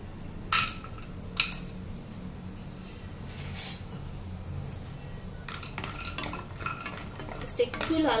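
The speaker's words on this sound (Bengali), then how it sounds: "সেটাতে আমি বড়িটা হালকা ফ্রাই করে নেব।" Lentil dumplings (bori) lightly frying in mustard oil, with steady soft sizzling, a utensil stirring and scraping in the pan, and a few sharp clinks of metal, all close and without talk.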